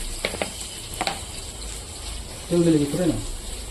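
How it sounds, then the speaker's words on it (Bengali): Katla fish sizzles in oil with salt and turmeric, a soft, steady frying hiss marked by a few sharp clattering clicks early on, with a voice speaking briefly near the end. "এবার এগুলোকে ভেজে নেব লবণ দিয়ে দিলাম এবার হলুদ দিয়ে দেবো এর মধ্যে একটু তেল দিয়ে দেবো"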